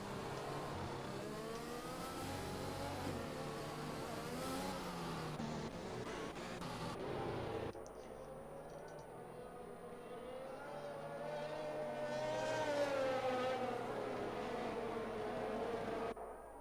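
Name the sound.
race cars racing at the Hungary race, from a racing video game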